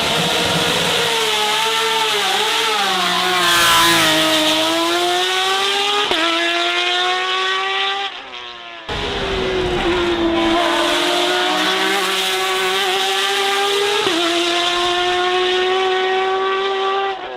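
A Porsche 911 GT2 RS racing car roars at full throttle on the Nürburgring Nordschleife, its loud, strained engine note rising through the gears with brief dips at each shift, heard alone without talk.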